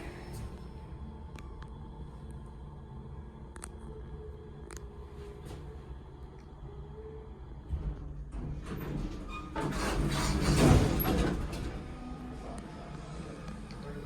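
A hydraulic elevator's sliding door rumbles and whooshes shut with a mechanical hum around it, ending in a soft thud as it closes.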